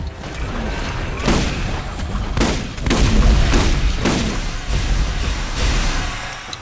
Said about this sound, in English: Chuck all the grenades.